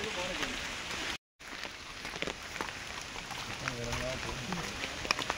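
Rain falls steadily on a Himalayan mountain trek, a continuous soft patter and hiss under a voice.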